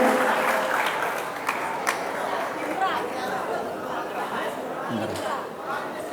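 Seminar audience in Indonesia claps for a participant, Indra, with the applause blending into crowd chatter and a voice talking over it. The clapping is steady and moderately loud throughout.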